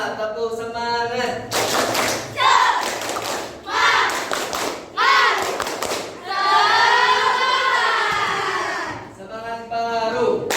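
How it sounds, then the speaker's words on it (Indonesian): A class group performs the 'tepuk semangat' rhythmic clapping chant, with bursts of patterned claps alternating with chanted voices, loud and close, the clapping and chanting trading off in several rounds. "tepuk semangat."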